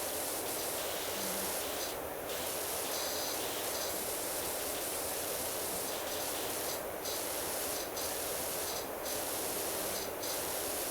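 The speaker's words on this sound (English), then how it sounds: "get the big spray in on everything else" A pressure washer blasts a continuous loud hissing spray in the cleaning game PowerWash Simulator, with faint periodic clicks and ticks over the steady rush of water and no talking.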